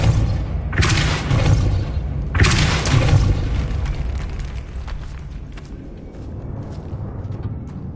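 Two heavy booming impacts from the Depulso force spell in Hogwarts Legacy hit close and loud about a second and a half apart, each trailing into a rumbling decay, then lighter clatter fades out.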